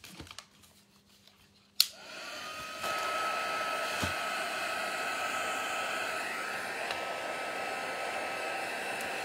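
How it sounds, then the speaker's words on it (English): A heat gun dries a vintage junk journal page. After a sharp click it switches on, then blows with a steady, loud whooshing hum nearby. "Heat gun."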